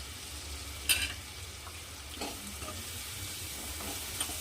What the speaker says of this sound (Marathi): मसाल्याला परतून घ्यायचं आणि एक आलू मी किसून पाण्यात टाकून स्वच्छ धुवून घेतला आहे